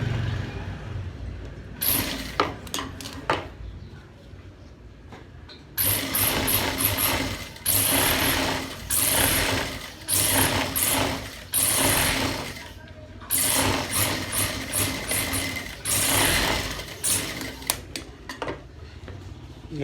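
An electric sewing machine stitches a men's shirt collar in bursts of rapid, loud whirring, starting and stopping several times with brief pauses between runs.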